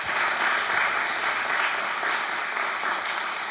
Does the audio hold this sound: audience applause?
yes